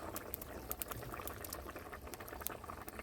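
Fish curry broth bubbles at a rolling boil in a pot, a faint, even stream of small pops and gurgles with no voices.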